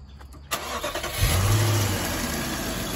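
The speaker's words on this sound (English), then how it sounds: "Start the car, please." An Infiniti M45 car engine cranks and fires up after a short quiet moment, then settles into a steady, close idle with no talking.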